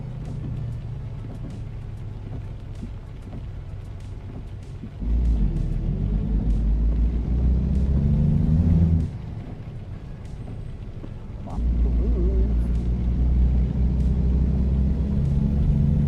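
A big truck engine in American Truck Simulator rumbles low and steady, swelling louder for a few seconds twice as it revs, with no voices.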